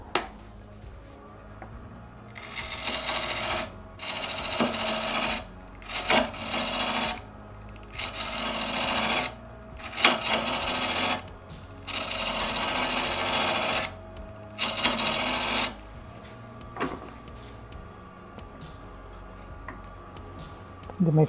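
A tool cutting away the outside corners of an Osage orange wood lid, a series of harsh rasping bursts of a second or two each with short pauses between, close and fairly loud, then fading to a quiet hum.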